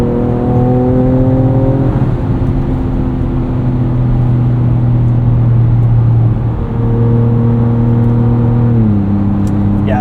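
A 2024 Ford Ranger Raptor with a Ford Performance tune accelerates hard in Baja mode, the engine droning loudly as it climbs through the revs, briefly dropping at each gear change before pulling up again.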